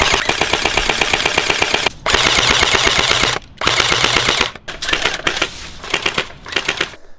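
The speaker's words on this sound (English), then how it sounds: "What makes this gun unique is the fact that it's fully automatic, electric powered, and it shoots 3 BBs with each shot." Tokyo Marui SGR-12 electric airsoft shotgun shooting fully automatic, three BBs per shot, in long loud rapid mechanical bursts with brief pauses between strings of fire.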